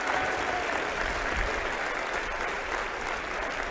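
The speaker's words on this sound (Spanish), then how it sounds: "As palmas são para o Senhor." A church congregation in Lima, Peru, bursts into dense, sustained applause, loud and continuous from start to finish, with no speech over it.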